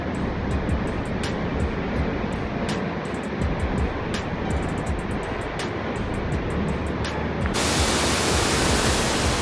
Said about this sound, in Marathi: खूप छान असा वॉटरफॉल आहे आडोशी गावामध्ये